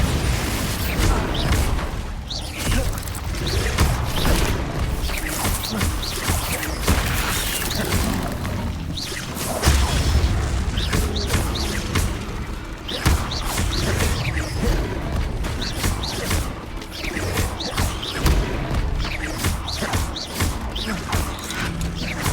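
Bombarda and Confringo spells explode during combat in Hogwarts Legacy, with repeated booming blasts and crashes over a dense, busy game mix running the whole time.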